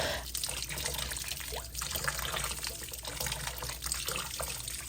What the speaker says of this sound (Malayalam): ഇതൊന്ന് ഞാൻ ഐസ് പോകാനായിട്ട് വെള്ളം ഒഴിച്ച് വെക്കുകയാണ്